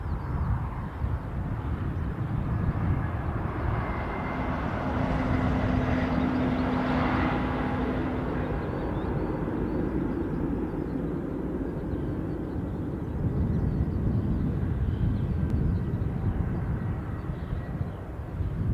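A jet airliner powers up and takes off at Newcastle Airport, a broad distant roar that swells through the middle and holds steady, heard from a spotting position with no talking.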